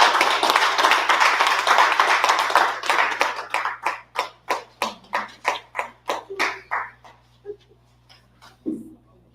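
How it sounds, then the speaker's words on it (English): Audience applause at a business event, at first a dense burst of many hands clapping, then thinning into a few slow, distinct claps that fade and stop, with a faint voice near the end. "So give a round of applause to Miss Christy."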